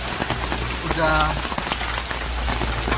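Steady rain pours down as a dense, constant hiss of drops on a surface, with a brief murmur of speech partway through.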